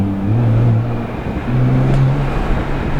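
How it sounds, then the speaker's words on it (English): A turbocharged V6 car engine rumbles low and steady, its pitch rising and falling as it revs twice, loud and close with a deep droning tone. "it's got a turbocharged V6 engine in it"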